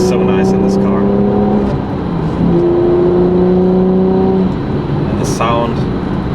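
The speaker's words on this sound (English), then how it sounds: "The auto blip feature is just so nice in this car." A Porsche 911 991 Carrera 4 engine hums under load as the car drives, with automatic throttle blips on downshifts giving short rising and falling engine tones; someone talks over much of it.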